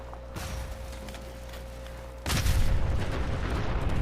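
A huge self-destruct explosion in Fallout 4 hits suddenly after a steady low hum, then rolls on as a loud, sustained rumbling roar, with no one talking.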